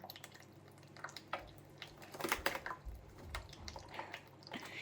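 Tap water running gently for a pet budgie's bath, with soft splashes, drips and squishy wet flutters coming in irregular bursts, faint and close.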